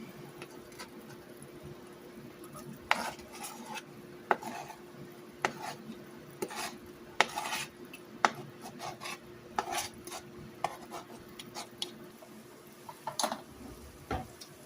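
A wooden spoon stirring a cheesy hashbrown casserole with egg and bacon, soft scraping and scattered light taps against the dish, close and fairly quiet, no talking.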